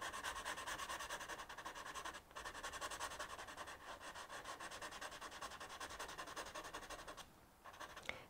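Pencil scratching across thick drawing paper, a faint continuous rasping rub that runs on steadily with a couple of brief pauses, no voices.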